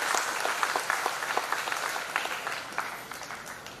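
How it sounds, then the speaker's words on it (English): A large audience at a university day celebration applauds in a dense, sustained burst of clapping that stays loud throughout and eases slightly toward the end. "Let's give a big round of applause for this achievement."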